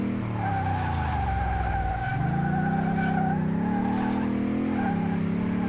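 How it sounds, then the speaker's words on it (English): Loud, continuous tire squeal from a Lamborghini Aventador LP700-4 skidding in the PC game Car Mechanic Simulator 2018, the screech bending in pitch around the midpoint while the engine drones steadily underneath. "we're going to take it for a spin here"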